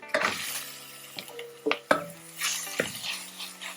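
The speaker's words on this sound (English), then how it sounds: "Now we're gonna add our minced beef." Minced beef going into a pan for Tex-Mex chili, with scraping and stirring clatter of a utensil against the pan, sharp knocks and a soft background sizzle, close and moderately loud.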